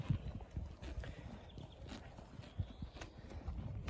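A mare walking on a rural horse farm, her hooves clip-clopping in an uneven steady rhythm, close and fairly quiet, with faint background noise and no talk.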